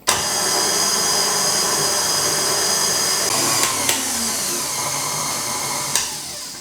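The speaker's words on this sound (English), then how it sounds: "Just whack the whisk in and off we go. We just want to whisk it till it goes thick." Electric whisk whipping cream and icing sugar in a bowl: a steady, loud, whining motor drone running continuously and close up, with a few brief scraping clicks against the bowl.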